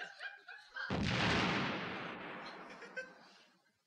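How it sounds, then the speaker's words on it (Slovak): A cannon fires from a balcony in a cartoon, a sudden heavy boom that rolls into a long, fading rumble after a few seconds of muffled activity, fairly distant and with no voices over the blast. "Delo pripravené! Delo namieriť. Delo namierené."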